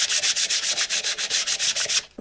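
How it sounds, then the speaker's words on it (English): Wooden pegs are hand sanded with sandpaper for a peg rail, a steady rhythm of about a dozen quick rasping strokes, close and loud, with no voices. "Now give these a little sand."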